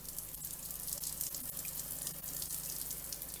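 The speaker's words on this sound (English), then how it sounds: "this will allow the cold water to come through the system" Cold water runs steadily through a Mira Advance ATL thermostatic shower valve, a constant hissing flow with a faint low hum underneath, heard fairly close.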